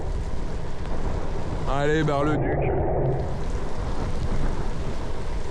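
Steady rain falls outdoors in a dense, even hiss that continues throughout, while a voice calls out briefly partway through.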